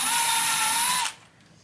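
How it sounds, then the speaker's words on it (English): A power drill bores a pilot hole into a cabinet through a clamped knob-and-pull drilling jig, a loud steady whine running for about a second before cutting off abruptly, leaving quiet room tone. "I'm going to start with a pilot hole."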